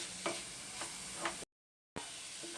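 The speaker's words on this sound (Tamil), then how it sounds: "எல்லாத்தையும் சேர்த்து நல்லா மிக்ஸ் பண்ணிக்கலாம்." A spoon stirs sweet wheat-flour stuffing, cooked down with milk, in a hot pan: a steady frying hiss with three soft scraping strokes, then a brief dropout before the sizzle returns.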